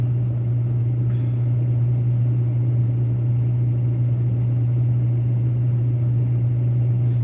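A combine harvester runs during soybean harvest with a steady, loud, low droning hum and rumble from inside the cab, unchanging throughout.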